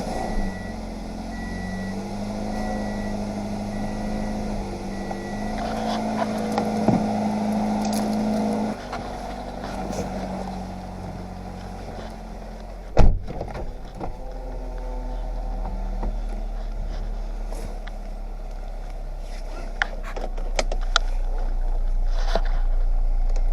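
A 2017 Subaru BRZ fitted with an Ace 350 header idles steadily, its low engine drone continuous and close, with occasional clicks and a brief clunk over it and no talking.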